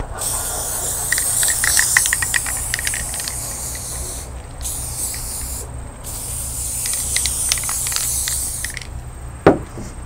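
Basting spray adhesive is sprayed onto a quilt in several loud, hissing bursts separated by brief pauses, followed by a single sharp knock near the end.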